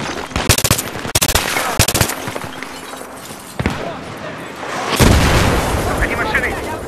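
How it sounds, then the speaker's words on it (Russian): Suppressive gunfire and explosions in the video game Battlefield 3: rapid bursts of machine-gun fire in quick succession, then a heavy booming blast, with shouted voices in between, loud and close. "Подавляющий огонь!"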